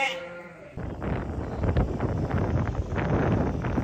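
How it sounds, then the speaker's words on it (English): Ewes bleat outdoors during worming, several calls rising over a steady rush of wind across the microphone, fairly close and continuous with no talk. "So now we're worming the ewes."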